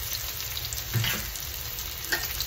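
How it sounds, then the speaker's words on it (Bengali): Onion and garlic sizzle in oil for a tempering, a soft, steady close frying hiss broken by a couple of brief stirring scrapes. "আমি আগেই বাগার দিয়ে বসাচ্ছি একবারে।"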